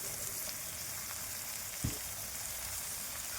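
Onion and green chillies sauté in a pan for a Kerala-style spicy chicken perattu, giving a dense, even frying hiss with one brief low knock of a utensil midway.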